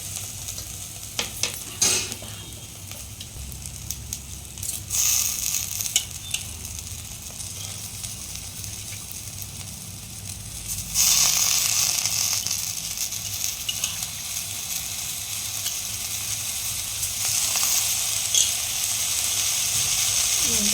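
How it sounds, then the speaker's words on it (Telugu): Soaked rice frying with garam masala in a pan gives a soft, steady sizzle and intermittent scraping clinks as it is stirred, growing louder and brighter after a fresh stir partway through. "కొంచెం ఎక్కువ బియ్యం వేసుకొని కొంచెం సేపు ఇట్లా ఫ్రై చేసుకోవాలి"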